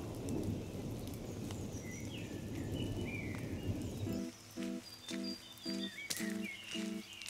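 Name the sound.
heavy rain in the Forest of Dean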